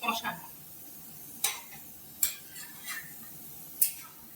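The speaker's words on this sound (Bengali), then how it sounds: "ভালো করে কষাতে হবে এটা।" Spiced yogurt chicken masala being stir-fried in a pan, with a utensil scraping and clinking sharply against the metal at irregular intervals over a soft sizzle, while someone talks quietly nearby.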